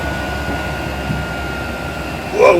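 A 5kW AliExpress diesel heater aboard a sailboat runs with a steady fan and combustion hum shutting down, a continuous mid-level drone with faint tonal whine and a brief louder burst at the end.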